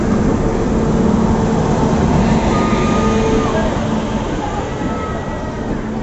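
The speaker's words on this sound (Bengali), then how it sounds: "তো আমাদের ট্রেন চলে এলো, এটা এটা আজিমগঞ্জ মালদা প্যাসেঞ্জার ট্রেন।" The Azimganj–Malda passenger train pulls into a station, a loud continuous rumble of wheels and carriages filling the whole stretch and easing slightly toward the end, with no clear voices.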